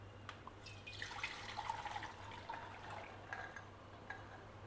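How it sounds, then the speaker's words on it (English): Water draining away from 200 grams of soaked white chickpeas (kabuli chana), a soft steady trickle with scattered drips, faint and close, with a low hum underneath and no talking. "Now we will drain out the water."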